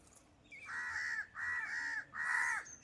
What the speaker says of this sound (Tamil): சுற்றி காக்கா கரைஞ்சிட்டு தான் கிடக்கு.